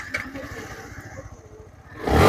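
A motorcycle engine starts and revs at a bike showroom, a Dark Knight Black Version 3 model; a low idle rumble runs throughout, then a loud close surge of revving in the final moments.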